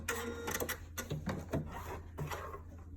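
A Janome Atelier 3 sewing machine runs its automatic thread cutter, a brief close mechanical whir and click sequence with small clunks, quiet and alone.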